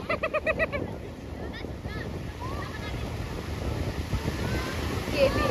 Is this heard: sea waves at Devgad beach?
yes